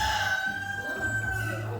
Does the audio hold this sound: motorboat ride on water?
no